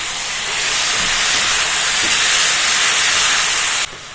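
Tomatoes hit a hot pan with garlic and break into a loud, bright, close hiss of sizzling that holds steady for about three seconds before cutting off abruptly.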